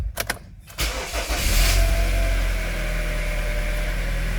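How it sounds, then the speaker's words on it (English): A 2011 Kia Sorento engine cranks over with a short burst of starter whirring, catches, and settles into a steady, close idle hum with no talking. "When we start the car"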